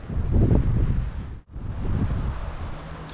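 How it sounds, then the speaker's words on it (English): Strong wind buffets a boat out on the water off Canaveral, a steady broadband roar that swells and briefly drops out before gusting back, with no talk. "the wind's really picking up"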